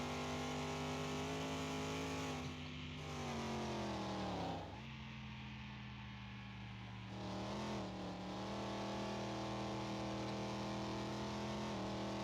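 A movie car's engine in Car Mechanic Simulator 2021 holds a steady, throaty drone with plenty of torque but little RPM, its pitch dipping briefly midway and then rising again, with no talking over it.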